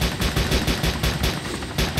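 Dense bursts of video game gunfire rattle in rapid, repeated volleys, like machine-gun fire, loud and continuous across the whole stretch with no talking.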